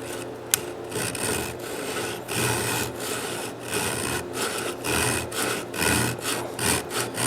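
A small dovetail saw makes short cuts into a wooden stock for a 1920 Ithaca Flues double-barrel shotgun. A close, continuous rasping back-and-forth sawing rhythm runs throughout, with one sharp tap near the start.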